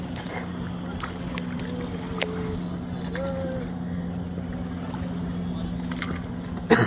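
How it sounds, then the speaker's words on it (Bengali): A motorboat on the river heading to Triveni Sangam at the Prayagraj Maha Kumbh Mela, its engine a steady low drone throughout, with wind noise, faint bird calls and a brief knock near the end. "তারপরে বোট ক্লাব থেকে নৌকা নিয়ে যাচ্ছি ত্রিবেণী সঙ্গমে"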